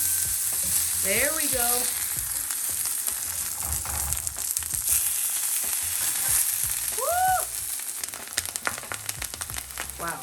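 Portobello mushrooms with sage and garlic sizzle and fry steadily in a hot pan, a constant bright crackle with occasional stirring, while a voice briefly speaks over it.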